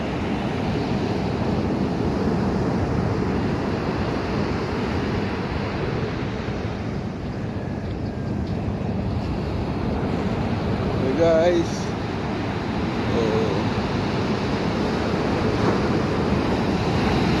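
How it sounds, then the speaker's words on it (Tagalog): Steady roar of strong ocean waves crashing continuously on a beach, with wind noise on the microphone and a person talking over it. "lakas ng alon guys. Grabe oh."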